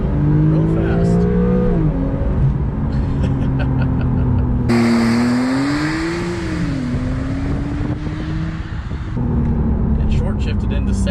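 A Porsche 991.2 Carrera 4S, all-wheel drive, accelerates hard with a rising engine note, shifting into second amid wheel spin; the loud, continuous roar is heard from inside the car.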